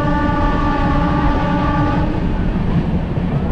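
The Indore Express passenger train between Haridwar and Dehradun rumbles loudly and steadily, heard from on board, with a sustained horn tone sounding for the first two seconds.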